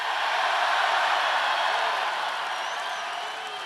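A large crowd at a Trump rally in South Carolina cheers and applauds in a dense, steady roar of clapping and shouting that holds throughout and eases slightly toward the end.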